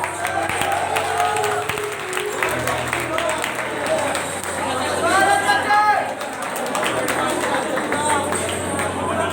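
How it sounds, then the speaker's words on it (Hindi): A crowd at a college fresher fest claps and cheers in a sustained burst, with chatter and a voice speaking over the applause throughout. "एक बार फिर से जोरदार तालियों के साथ आप सब स्वागत करेंगे।"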